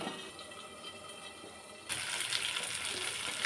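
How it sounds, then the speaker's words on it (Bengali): Lukewarm water poured into a pan of fried potatoes being cooked in oil, a soft steady rush that grows suddenly louder and brighter partway through and continues to the end. "এখন আমি জল দিয়ে দিলাম। হালকা গরম জল দিয়েছি আমি, তাড়াতাড়ি ফুটে যাবে।"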